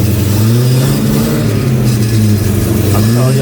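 A car engine revs hard in a shop late at night, with a loud, steady low growl and a few rises and dips in pitch, close by and continuous throughout.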